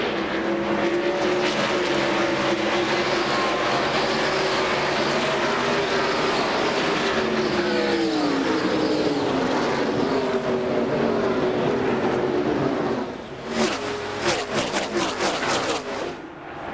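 NASCAR stock cars roar past in a dense, continuous pack at the green-flag start of the 2001 Brickyard 400 at Indianapolis Motor Speedway, engines loud and near, with a sharp crackling burst near the end.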